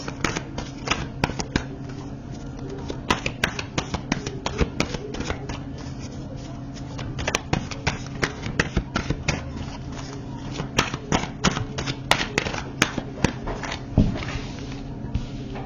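Tarot cards are shuffled and drawn in rapid, close riffling bursts of crisp snaps and flicks, brief quieter gaps between, with faint voices in the background.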